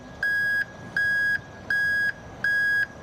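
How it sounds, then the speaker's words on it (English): Start-warning beep from the control panel of a manure dragline booster pump with a CAT C13 engine: four steady, loud electronic tones, each about half a second long with evenly spaced gaps, repeating in a regular rhythm. "You press the start, it asks if you want to confirm, and it'll beep for, I think it's 15 seconds."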